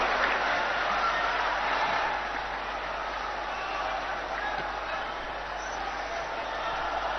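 A large crowd applauds at a political rally in Sagar, Madhya Pradesh, with dense, continuous clapping and crowd noise that eases slightly partway through.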